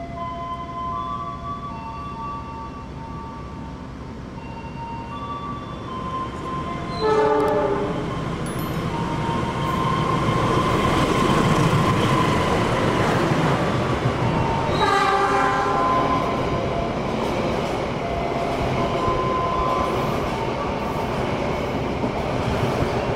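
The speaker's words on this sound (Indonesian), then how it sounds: "berarti kereta Parahyangan juga bakal segera melintas" The Parahyangan passenger train rumbles through Padalarang station in Indonesia, its horn blaring in long tones, with loud sustained rolling noise and rhythmic clacks of wheels over rail joints.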